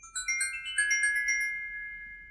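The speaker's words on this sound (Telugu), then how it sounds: "రే ఫోన్ ఎత్తువేంట్రా?" A phone ringtone plays a short bright melodic chime of rapid repeated tones that ring out and fade, loud and clear with no voices.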